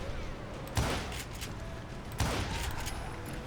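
Gunfire in the Western shooter game Call of Juarez: Gunslinger, two distinct shots about a second and a half apart over a steady noisy game ambience.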